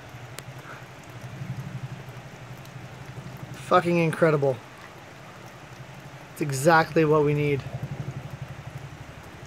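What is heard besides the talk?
heavy rain falling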